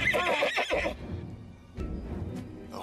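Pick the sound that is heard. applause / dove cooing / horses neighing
horses neighing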